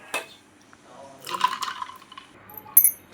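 Buttermilk poured over ice cubes into a drinking glass, giving a few soft splashing and trickling bursts with a faint clink near the end, close and fairly quiet.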